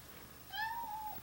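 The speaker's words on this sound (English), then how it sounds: "That's my cat." A pet cat gives a single clear, rising-then-falling meow, close and fairly soft, against a quiet room.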